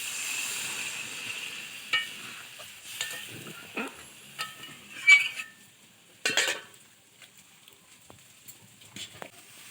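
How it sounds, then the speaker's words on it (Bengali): Water poured into a pan of sautéed catla fish-head curry with potatoes sets off faint sizzling and scattered clinks of a spoon stirring against the pan, quiet and intermittent, with no voices. "ভালো করে কষিয়ে নিয়েছি আমি এবার জলটা দিয়ে দিয়ে দেবো"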